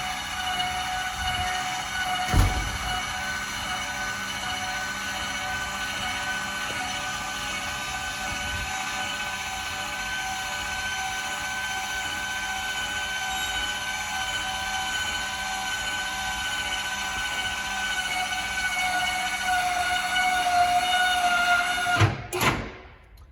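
Electric stabilizer jacks on a 2025 Forest River Wildwood Heritage Glen 27RKHL travel trailer retract with a continuous droning motor whine, holding steady for about twenty seconds before a clunk and a stop.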